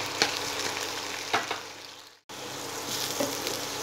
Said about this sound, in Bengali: হিটটা বাড়িয়ে কন্টিনিউ নাড়াচাড়া করে আমি সবজিগুলো 3 মিনিটের মতো একটু ফ্রাই করে নেব।